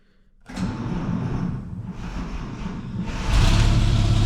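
An old engine, restarted after fifty years on a 6-volt battery, catches and runs on its own with a loud, steady, rough idle. Its rumble holds close and continuous and swells slightly near the end, with no voices.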